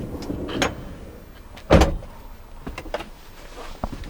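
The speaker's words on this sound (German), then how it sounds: "dann schieben wir die ganze Bank wieder zurück" A bench seat in a VW T6.1 pop-top camper van slides back and clunks into place, with a sharp mechanical knock midway and smaller rattles and clicks around it.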